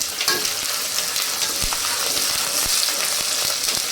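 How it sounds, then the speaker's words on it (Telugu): Curry leaves and onions fry in hot oil for mutton kheema curry, a loud, steady crackling sizzle with scattered pops and spatters close by, no talking. "లైట్గా వేగిన తర్వాత కరివేపాకు వేసుకోవాలి"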